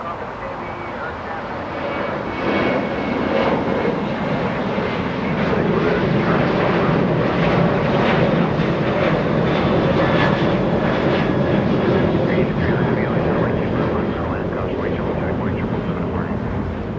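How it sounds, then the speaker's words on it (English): Alaska Airlines Boeing 737-800 departing Los Angeles International for Spokane, a loud, close engine roar that builds and holds as it climbs out, with people talking over it. "This one Alaska 432 flying to Spokane, Washington, a 737"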